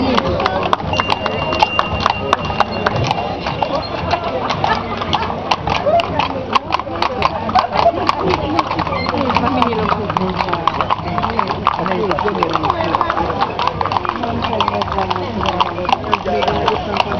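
Horses' hooves clip-clop steadily on pavement during a rose festival parade in Szeged-Szőreg, Hungary, a dense, continuous patter of many hoofbeats close by, with people talking throughout.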